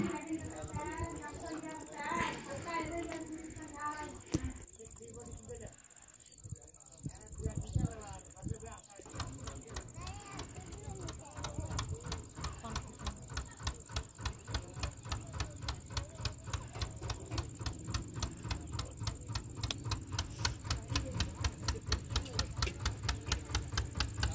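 A river ferry's engine starts up for the crossing on the Kaveri at Kottaiyur in Salem district. A steady, rapid chugging knock builds and grows louder. Someone talks over the earlier part.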